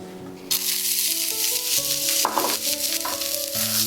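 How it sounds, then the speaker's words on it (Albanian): Onions and vegetables crackle and hiss steadily as they fry in sesame oil for a noodle dish. The close, dense sizzle carries on throughout, with brief stirring noises in the pan. "Perimet do i skuqim me vaj susami."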